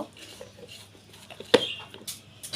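A spoon or utensil clinks against a bowl while flour and chili powder are mixed for fried chicken, one sharp close knock standing out among soft scraping and stirring sounds.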